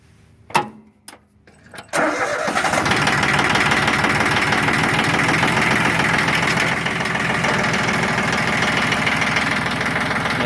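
A Yanmar YM1610D compact diesel tractor with fresh oil and filters cranks, fires and settles into a loud, steady, slightly knocking idle, close up, after a few clicks at the start.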